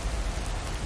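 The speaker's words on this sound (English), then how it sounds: "Can't harvest taters with all this rain." Steady rain patters in a farming video game, an even, dense hiss with no breaks over a brief moment.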